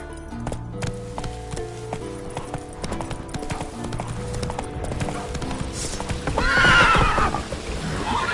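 Roach the horse trotting in a video game, rhythmic hoofbeats over a tonal music bed, ending in a loud, close whinny.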